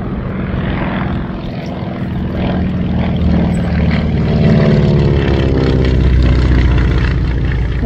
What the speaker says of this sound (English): Whilst Beechcraft is flying.